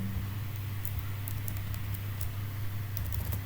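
Computer keyboard keys clatter in short bursts of quick, light taps as code is typed, faint and close over a steady low hum.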